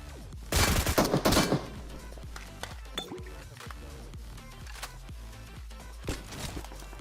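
Gunfire in the battle royale game PUBG Mobile on the Erangel map: a loud burst of automatic fire followed by scattered single shots, clinks and footsteps, some distant, with no talking.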